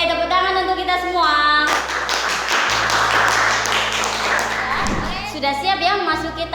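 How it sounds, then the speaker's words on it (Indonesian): Children in a classroom clap their hands together in a burst of loud, rapid clapping, with young voices chattering and a teacher's voice before and after. "Oke, tepuk tangan untuk kita semua."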